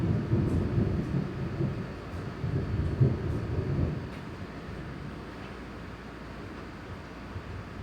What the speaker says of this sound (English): Oh wait, is it raining?